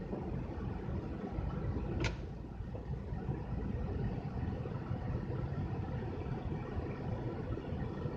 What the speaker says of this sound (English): just listening to the car, you know, paying attention.